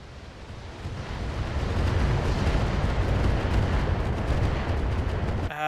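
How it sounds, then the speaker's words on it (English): A heavy rolling barrage of bombard artillery fire and explosions in the BattleTech BTA mod, a dense sustained roar building and holding loud for several seconds before an abrupt cutoff. "No, those are probably a bombard, not missiles."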